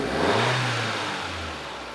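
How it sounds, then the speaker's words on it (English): A Honda Civic FK7 fitted with an Injen cold air intake gives one short, loud rev, recorded right at the intake. The engine note climbs, then eases back over two seconds with no talk. "Are you guys ready to hear the effects of the Injen cold air intake? Let's rev her up."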